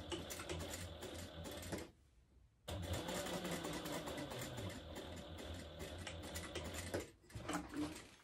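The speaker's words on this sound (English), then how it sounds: "you will flip it over and top stitch again, making sure that you don't twist up your fabric" A sewing machine top stitches fabric for a purse, running in steady, fast mechanical rattling bursts with a short pause near the start and another brief stop before it resumes.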